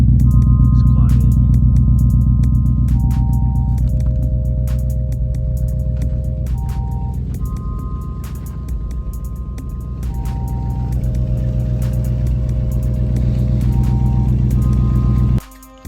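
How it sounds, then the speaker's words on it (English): A 2003 Infiniti M45 with Nissan Titan headers and a leaking exhaust rumbles loudly and steadily from inside the car, with a deep, constant drone and a series of electronic chimes over it, stopping abruptly at the end. "So you can hear the exhaust leak where I messed up at."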